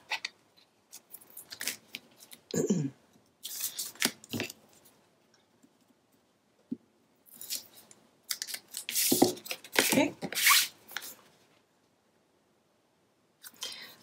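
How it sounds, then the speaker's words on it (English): Scissors snip and trim a small piece of paper overhanging the flange of a papercraft page build, giving several short, close, crisp cuts in bursts separated by quiet pauses. "And then I need to cut this, trim this little piece that's extending past"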